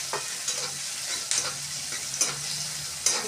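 Chopped onion and green chilli sizzle in hot oil for tomato chutney, with a soft, steady frying hiss broken by several sharp spatula clinks and scrapes against the pan.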